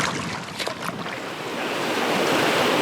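River rapids on a wild Lapland stream roar from around a bend, a broad, steady rushing hiss that builds and fills the space, mixed with light wind and rain noise, with no talking.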